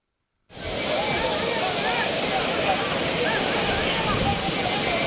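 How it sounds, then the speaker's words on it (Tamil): Floodwater thunders down Courtallam's main waterfall, starting abruptly after a brief silence and holding as a dense, constant, loud roar. "குற்றாலம் மெயின் அருவியில் அடுத்தடுத்து ஏற்பட்ட வெள்ளப்பெருக்கால்"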